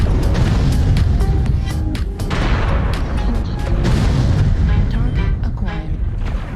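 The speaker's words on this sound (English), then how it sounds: "Quick shooting there." Mech weapons fire rapidly in MechWarrior Online, with loud repeated booming shots and blasts in quick succession throughout, while a player's voice comes through intermittently.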